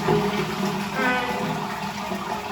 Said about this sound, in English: Now you're ready to flush.